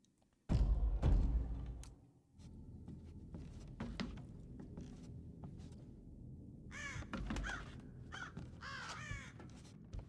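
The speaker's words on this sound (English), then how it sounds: "there's a bird right there" A crow caws several times in the Thief (2014) video game, a group of harsh, repeated calls in the later part over a steady ambient bed, following a loud thump near the start.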